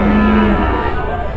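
A cow at a cattle market lets out a single loud, close moo lasting about half a second, then the bellow tails off into general market background noise.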